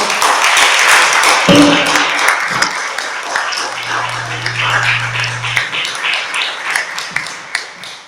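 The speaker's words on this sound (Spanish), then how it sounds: "Den un aplauso a Cristo" A church congregation claps during a service, dense applause that swells and then thins out, with a brief tone and scattered taps within it.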